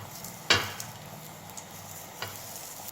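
A half onion scrapes across a hot griddle greased with a couple of drops of oil for dhiradi, giving one sharp scraping swipe near the start, a fainter one later, and a low sizzle throughout.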